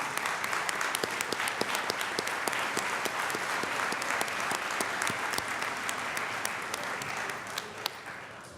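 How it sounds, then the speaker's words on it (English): Sustained applause at a 2016 mentor program awards ceremony honoring the scholarship committee, a steady, dense crowd of clapping hands with a few sharper nearby claps standing out throughout. "give them a round of applause"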